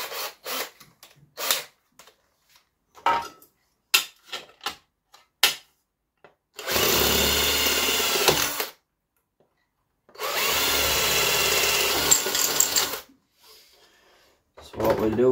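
Two sustained bursts of a power drill boring holes for M6 fittings while fabricating an under-seat tray for a Suzuki GSX-R motorcycle, each a few seconds long, separated by quiet moments with scattered clicks and handling noises.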